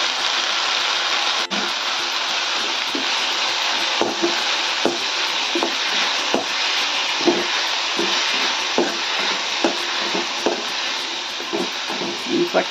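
Hand-torn, washed leafy greens fry in a pan of golden-browned onions with a dense, continuous hiss and sizzle, broken by repeated soft taps and scrapes of a stirring spoon.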